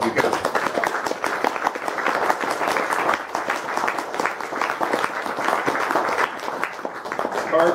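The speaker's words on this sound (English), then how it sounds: "y'all should give Chris and Tony one hell of a round of applause" An open mic audience applauds with sustained, dense clapping that fills the room from start to finish, loud and steady with scattered cheers and voices mixed in.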